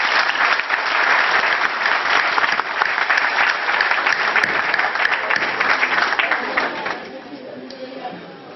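An audience applauds at a company's new year address, with loud, dense clapping from a large room that holds steady, then thins and fades near the end.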